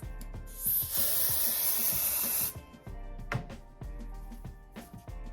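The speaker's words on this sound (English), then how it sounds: "So I'm gonna spray this." A spray bottle gives a long, steady hissing spray onto fabric lasting about two seconds. A few soft handling clicks and taps come before and after it.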